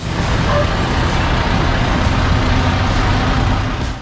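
A Mack CH613 heavy-duty truck rumbles steadily and loudly, its broad engine and road noise holding constant for several seconds with no speech.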